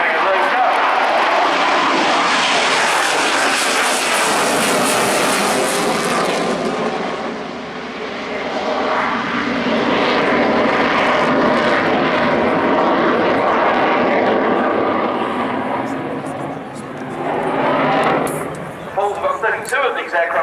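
A Mikoyan MiG-29A jet fighter making a low pass at the RIAT air show, a loud roaring jet blast that swells and sweeps overhead then fades, with a commentator talking over it.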